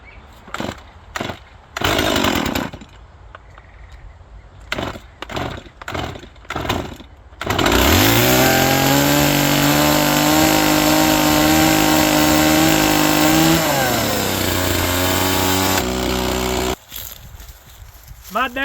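A freshly sharpened chainsaw with a newly tightened chain takes several short pull-starts, then roars into a loud, close, sustained run that drops back and cuts off. Someone talks between the starting pulls.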